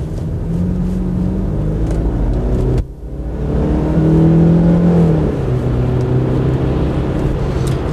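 A 2005 BMW 120i with about 91,000 km accelerates through the gears, its engine droning loud and steady, dropping briefly at a gear change around the third second before pulling strongly again, heard from inside the cabin.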